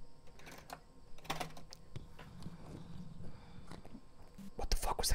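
Computer keyboard keys are mashed rapidly in scattered, uneven bursts of plastic clacking. The clatter is faint and close, with a few louder clusters near the end.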